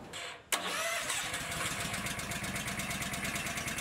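A Honda engine on a mixer machine starts with a sharp catch and settles straight into a steady, loud, close idle with an even chugging rhythm.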